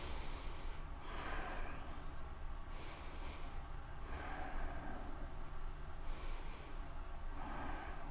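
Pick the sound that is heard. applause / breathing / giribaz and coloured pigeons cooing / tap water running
breathing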